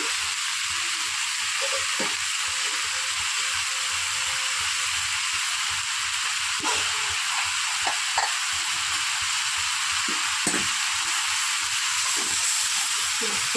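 Fried fish heads hiss and sizzle in a cooking pan, a steady frying crackle with soft stirring clicks and occasional scrapes close by.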